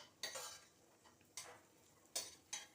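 Food being stirred in a frying pan, a few separate scraping strokes of a utensil against the pan spread over a couple of seconds, fairly quiet, no speech.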